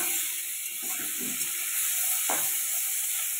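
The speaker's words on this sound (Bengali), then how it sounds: "সিদ্ধ করে রাখা মাশরুমগুলো ওই কড়াইয়ের মধ্যে দিয়ে হালকা আঁচে নেড়েচেড়ে আমি ভেজে নেব" Boiled mushrooms fried in mustard oil in a kadai over low heat, with a continuous close sizzle and a couple of scraping stirs of the spatula, no talking.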